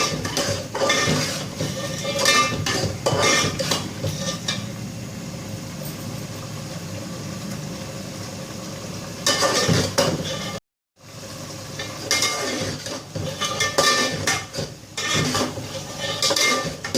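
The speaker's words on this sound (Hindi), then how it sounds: "अच्छी तरह भून लेंगे।" Potato rice (taahri) fried and stirred in a pot with half canola oil, a spoon repeatedly scraping and clinking against the metal in uneven bursts, with a brief silent gap midway and no talk.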